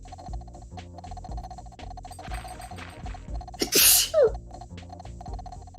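A single loud, sharp sneeze rings out close by over steady background music, with a brief sharp inhale leading into it.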